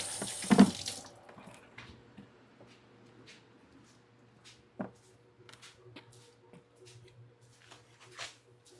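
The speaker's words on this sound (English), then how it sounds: "I'm gonna go wash my hands real quick" A tap runs water into a sink as hands are washed, a faint steady trickle with occasional soft clunks and splashes, preceded by a brief louder knock at the start.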